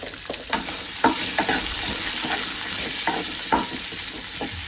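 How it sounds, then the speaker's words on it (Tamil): Shallots and big onions sizzle in hot oil, with several distinct stirring scrapes and clatters over a steady, fairly loud frying hiss. "இதையெல்லாம் எண்ணெயிலே வதங்கட்டும்."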